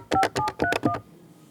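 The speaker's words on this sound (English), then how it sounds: "And we dial the phone number." Keypad dialing tones on an Avaya 1416 IP desk phone: five short, evenly spaced DTMF beeps in quick succession, clear and close, then quiet.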